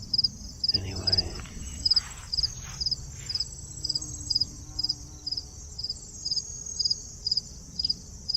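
Crickets chirp outdoors in a steady, evenly spaced series of high, bright pulses over a faint low background hum, with no talking.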